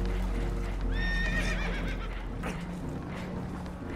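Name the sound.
horses neighing in video game Red Dead Redemption 2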